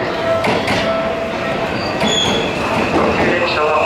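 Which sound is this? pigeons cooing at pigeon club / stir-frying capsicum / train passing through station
train passing through station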